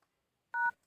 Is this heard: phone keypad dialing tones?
yes